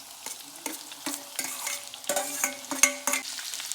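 Sliced onion sautéing in hot oil with curry leaves, garlic and green chilli, a steady close sizzle broken by repeated scraping stirs of a spatula against the pan.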